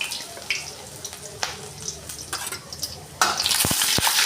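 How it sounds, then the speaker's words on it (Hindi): Cumin seeds and chopped green chili dropped into hot mustard oil in a pan, with scattered stirring clatters, then a sudden steady sizzle and crackle that rises and holds close by. "सरसों का तेल पक गया तो इसमें डाल लिया जीरा और अब डाल ली हरी मिर्च कटी हुई।"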